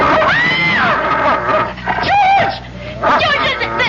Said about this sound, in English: there's a dog on our bed. A horrible big dog.